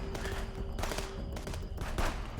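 Dense, chaotic machine-gun fire in the video game Contraband Police, with bursts of rapid shots and explosions packed together at a steady loud level with no clear pauses.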